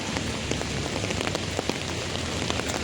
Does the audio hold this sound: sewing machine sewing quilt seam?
no